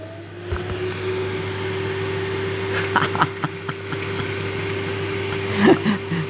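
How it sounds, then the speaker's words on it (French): A vinyl record cleaning machine vacuums a record, a steady mechanical suction hum with a low drone, punctuated by a few small clicks and knocks, fairly close. "J'ai juste en train d'aspirer mon vinyle"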